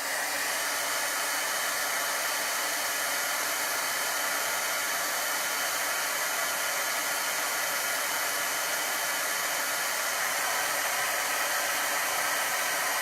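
A hair dryer blows steadily over a chalk paste transfer, a constant airy whoosh held at an even level throughout with no voices.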